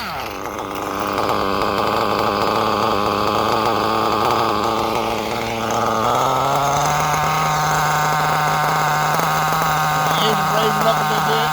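A Reds R5R nitro engine with a horizontal carb idles loudly and steadily up close, a buzzy, chainsaw-like drone that holds an even pitch with a slight rise in tone about halfway through.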